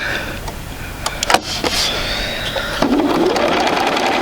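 A sewing machine stitching a quarter-inch quilt seam, a close whirring motor run with a few clicks and bumps at the start, then a steady hum that rises slightly toward the end.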